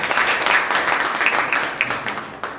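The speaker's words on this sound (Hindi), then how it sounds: "तालियों से इनका जोरदार स्वागत करेंगे।" Audience applause at an international academic seminar, a steady wash of clapping held at an even level throughout, with a few sharper claps standing out.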